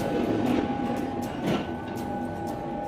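Inside a moving passenger train leaving Rome Termini, a steady rumbling roar with a constant whine runs throughout, with a brief surge of rattling around the middle and faint knocks.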